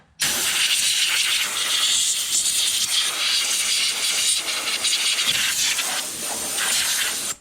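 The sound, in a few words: air compressor blowing dust out of an engine bay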